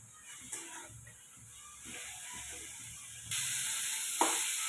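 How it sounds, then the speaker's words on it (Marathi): Paneer bhurji sautéed in a pan with chutney mixed in: a steady frying hiss and sizzle with light scraping, rising noticeably louder for the last stretch. "चटणी छान अशी म्हणजे भुर्जी छान अशी आपण परतून घ्यायची"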